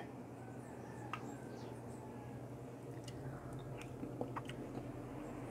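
Someone chews a spoonful of Trinidadian-style cowheel, beef and pigtail soup, with faint, close, soft wet chewing and a few small clicks over a steady background hum.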